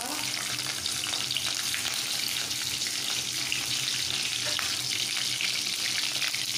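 Spices and green chillies splutter in hot oil in a continuous dense sizzle that holds at an even level throughout, close and alone with no talk.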